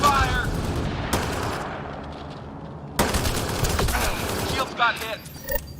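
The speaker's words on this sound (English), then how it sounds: "Heavy fire." Heavy automatic gunfire in a Mass Effect: Andromeda sci-fi firefight: dense, loud bursts of machine-gun fire with sharp impacts, surging again partway through, while voices talk over the combat.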